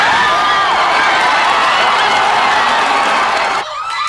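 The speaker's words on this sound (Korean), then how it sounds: "첫 돌이 터지는 순간 교회가 떠나갈 듯 신도들의 함성이 터집니다" Churchgoers packed into a church roar and cheer loudly at a football goal, a dense, sustained wall of shouting and screaming voices close by that drops off slightly near the end.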